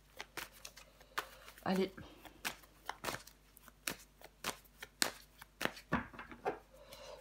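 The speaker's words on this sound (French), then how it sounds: "On va recouvrir des cartes." Tarot cards being handled and laid down on a table, with a run of crisp slaps, flicks and shuffles scattered across the clip, while a voice speaks briefly between them.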